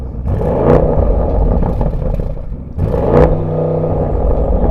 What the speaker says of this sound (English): Start the engine up. Give it some revs.